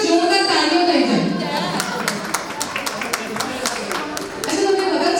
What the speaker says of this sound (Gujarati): એમના માટે એક વખત જોરદાર તાળીઓ થઈ જાય